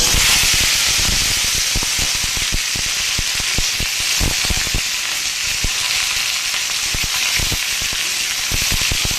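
Steamed cauliflower and potato curry hits a hot pan with cumin, setting off a loud, steady frying sizzle with dense crackling pops throughout and no talk.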